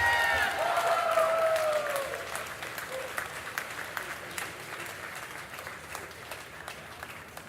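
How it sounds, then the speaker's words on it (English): A crowd applauding steadily, loudest at first with a few whoops and cheers, then settling into lighter continuous clapping that slowly thins out. "Let's give her another round of applause."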